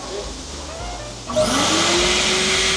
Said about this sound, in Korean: 한번 청소기로 매트에 있는 먼지 빨아주도록 할게요